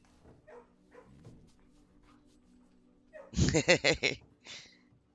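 Dog barking in the kennel room of the video game Blue Prince: a loud burst of several quick barks in a row, then one shorter bark, following quieter game sounds.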